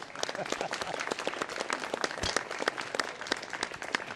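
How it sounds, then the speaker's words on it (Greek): An audience at a village gathering in Prines breaks into lively applause, many hands clapping in a dense, uneven patter that stays steady and fairly close throughout. "Πω, χειροκρότημα"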